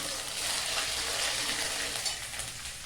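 Ginger paste stir-fried in a pan for a paneer dish gives a steady, close hiss and sizzle with a soft scrape of stirring, quiet and unbroken.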